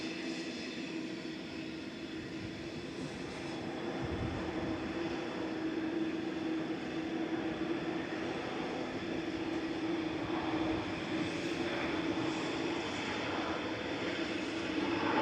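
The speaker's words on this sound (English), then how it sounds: "2EJ is departing to Melbourne, Florida with flight 108. It's a 787-9 Dreamliner." A Boeing 787-9 Dreamliner departs Manchester Airport for Melbourne, Florida, its engines giving a steady, moderately distant broadband roar that swells slightly and holds throughout, with no talk over it.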